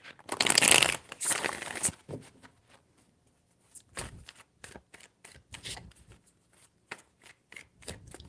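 A deck of tarot cards is shuffled close up, with one long riffle followed by a series of short, crisp card slaps and flicks separated by brief pauses.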